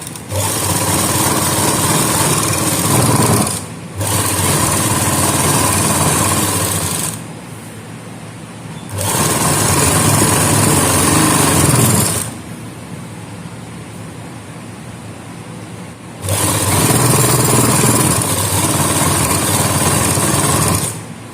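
A sewing machine stitches the hem of a salwar in three loud, close bursts of rapid whirring, separated by short pauses.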